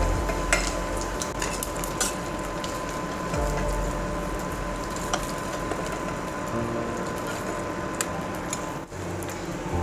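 Metal spatula scraping and clinking against a pan as half-fried singi fish are lifted out of hot oil, over a steady low sizzle throughout.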